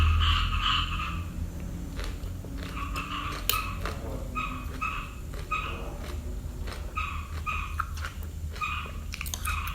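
Frogs croaking outdoors during a recording: short repeated croak pairs come in regular bursts from a moderate distance, over a steady rustling background with scattered clicks and chewing-like noises.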